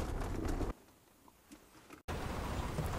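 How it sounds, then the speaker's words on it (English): A bird perched on a van window in North Dakota gives soft, pigeon-like coos during a brief lull between stretches of loud, steady broadband noise. "Check out this bird sitting right on my window here."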